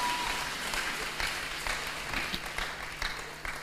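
A church congregation applauds to acclaim the Lord, a steady, dense round of clapping from a crowd that fades slightly toward the end.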